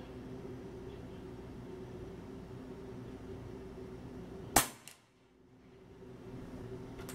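A single sharp shot from a Leviathan 5.5 mm air rifle, fired at a 50-metre target, cracks out over a steady background hum, followed by a brief drop in the ambient noise.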